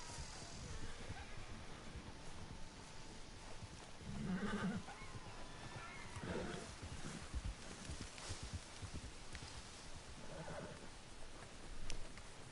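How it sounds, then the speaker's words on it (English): A blue horse whinnies in Red Dead Redemption 2 Online, with a couple of short neighs rising over outdoor ambience and faint hoof sounds, fairly quiet and distant-sounding. "You separate from the herd, my beautiful blue horse."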